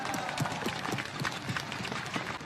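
A church congregation at a Pentecostal gathering gives warm applause to welcome a guest preacher, with brisk dense clapping that holds steady for a couple of seconds.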